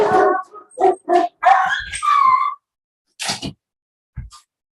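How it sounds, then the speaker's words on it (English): Several dogs barking at a package delivery at home, a run of loud close barks and yips in quick bursts, then a pause and a couple of sharper single barks. "my dogs are going to start barking right now"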